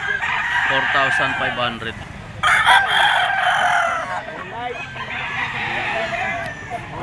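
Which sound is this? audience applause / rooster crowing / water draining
rooster crowing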